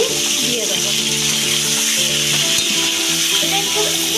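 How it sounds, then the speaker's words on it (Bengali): Meat sizzles loudly in ghee with a paste of ginger, green chilli and capsicum, a steady close frying hiss running throughout, with stirring and music underneath. "এখন আদা, কাঁচা লঙ্কা এবং ক্যাপসিকাম আমি যে বেটে রেখেছিলাম সেটা আমি দিয়ে দেবো"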